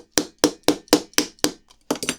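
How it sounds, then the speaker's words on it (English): Hammer taps seating a bladed leg section on a Fanhome Power Rangers Megazord model kit: six sharp, evenly spaced knocks close up, then a short pause and two or three quicker taps. "I am going to need to get a hammer out to"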